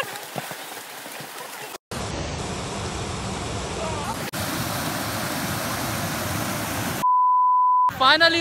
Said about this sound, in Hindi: First view of the fall.